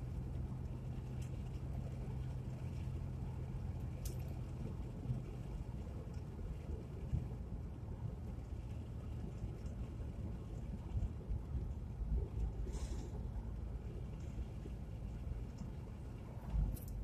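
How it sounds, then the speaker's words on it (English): Wind rushing through partly lowered car windows while driving uphill on a winding wooded mountain road in third gear, a steady low rumble with road noise, close and constant, no talking. "got the windows rolled down a little bit, so you might hear some wind noise"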